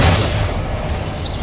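A Confringo blasting spell goes off in Hogwarts Legacy as a loud, low booming explosion that rumbles continuously through a short burst of combat.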